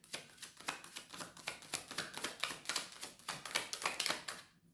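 Oracle cards shuffled by hand in a steady run of crisp, rapid riffling slaps, close and fairly loud, with no talking over it.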